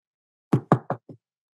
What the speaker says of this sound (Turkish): Kapıyı tıklatmış.